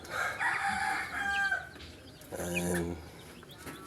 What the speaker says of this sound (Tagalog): Ayan na po yung mga manok ko po.